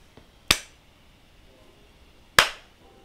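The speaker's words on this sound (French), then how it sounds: "Quelqu'un s'est mis à applaudir lentement, puis de plus en plus vite." Two single, sharp, slow claps spaced about two seconds apart in the Amour Sucré video game, crisp and close against a quiet background.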